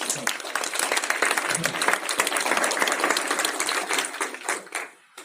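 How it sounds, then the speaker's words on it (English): A live audience at a Capital City Wealth Builders real estate investing meetup claps in a dense, sustained round of applause that tapers off and fades near the end. "Give her a round of applause."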